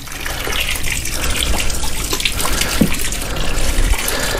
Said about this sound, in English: Now we're just gonna put water in.